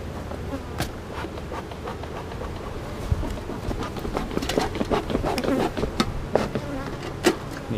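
Honeybees buzz steadily around an opened backyard beehive being checked after a split, a dense continuous hum with occasional louder passes close by.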